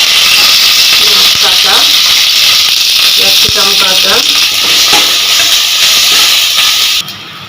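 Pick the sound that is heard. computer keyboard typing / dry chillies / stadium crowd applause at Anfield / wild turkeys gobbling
dry chillies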